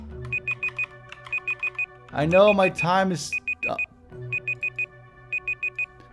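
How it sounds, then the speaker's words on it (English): Electronic beeps sound in quick groups of four, repeating evenly before and after a short stretch where a person talks over them. "Where is the beeping coming from?"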